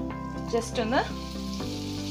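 Chicken pieces sizzle in a hot pan with butter, a steady frying hiss throughout while someone speaks briefly over it.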